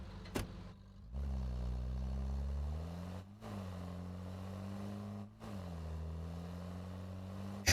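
UAZ car engine in the driving game Drive Beyond Horizons runs with a steady, quiet low drone, briefly dipping twice as if between gear shifts, then resuming at a constant pitch with no talk over it.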